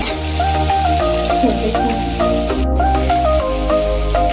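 Finely chopped onion fries in a pan for pav bhaji, a steady dense sizzle throughout with a brief clink near the middle, heard over low background music.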